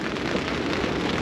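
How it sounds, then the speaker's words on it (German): Heavy rain patters down steadily at a fishing spot by a pond, a dense, even hiss of drops close around with no other sounds. "Richtiger Regen prasselt hier auf uns runter."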